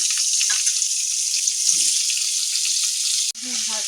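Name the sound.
washed potato and pointed gourd frying in oil with spices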